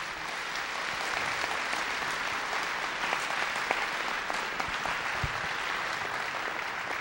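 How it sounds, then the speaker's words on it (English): A church audience at a creation-versus-evolution debate breaks into sustained applause, a thick continuous patter of clapping with occasional louder claps, heard alone throughout. "Give both of them a round of applause, would you?"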